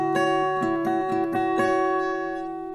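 An acoustic guitar is fingerpicked in a repeating pattern, individual notes plucked over ringing strings, close and clear, then letting the last chord sustain.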